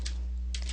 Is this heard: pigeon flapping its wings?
no